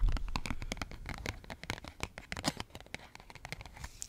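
A single playing card from a deck is handled up close in a quiet ASMR session, giving dense, crisp rustles, scratches and light tapping in rapid succession, with no voice.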